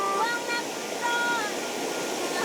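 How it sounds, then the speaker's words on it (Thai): Water rushes down a channel toward a small hydro generator in a forest village without electricity in Laos, a continuous close hiss with faint thin whines drifting above it. "เขาจะทำร่องให้น้ำไหลลงมาเห็นไหมครับ"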